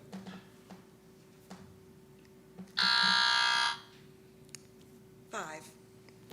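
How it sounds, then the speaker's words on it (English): A competition buzzer at a mathlete quiz contest sounds once, a loud, steady electronic tone lasting about a second. Quiet room noise and brief talk surround it. "So both buzzers worked, right?"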